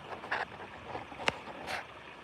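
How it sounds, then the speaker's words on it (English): Floodwater spills over a small waterfall on a farm, a continuous splashing rush with a few brighter splashes and a single sharp knock partway through, and no voices. "The waterfall."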